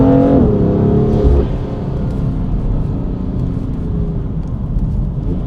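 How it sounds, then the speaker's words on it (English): A British Racing Green BMW F80 M3 with an Eventuri intake, CSF upgrades and software tuning revs hard, a loud close engine snarl that rises briefly then settles into a deep rumbling idle-like drone. "You can also immediately hear the Eventuri intake"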